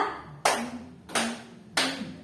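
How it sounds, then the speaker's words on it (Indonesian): A group in a school training session claps in unison, three separate bursts spaced evenly apart, each sharp at the start and fading briefly, fairly close with no talking. "Tepuk tiga."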